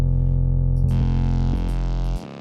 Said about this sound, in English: this is a really dirty, noisy bass. It's like, it gives, it's like distortion.